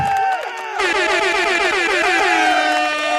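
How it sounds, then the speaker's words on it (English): Loud, blaring air horns sound continuously at a UCLA football game, several overlapping tones sliding up and down in a brash, sustained chorus. "some air horns too"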